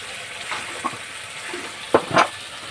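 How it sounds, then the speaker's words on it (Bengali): Spices with salt, turmeric and chili powder fry in oil, a quiet sizzle under a few sharp stirring scrapes near the end. "মশলাটা ভালো করে কষিয়ে নেব"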